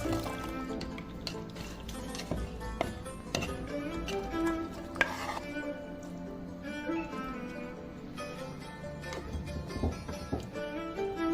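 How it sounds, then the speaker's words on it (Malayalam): Cooked chicken stirred into hot masala in a pan with oil, giving steady scraping and clinking of a spoon against the vessel under a continuous sizzle, with occasional sharper knocks. "ചൂടായ അരപ്പിലേക്ക്"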